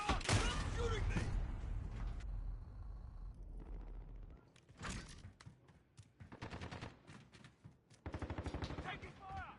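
Gunfire in Modern Warfare, with a loud burst of shots up front, then rapid bursts of automatic fire later, mixed with shouted voices.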